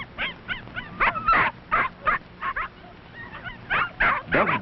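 A litter of seven tiny puppies with their mother whimper and yip in quick, uneven bursts, close by and fairly loud, with brief pauses between the cries.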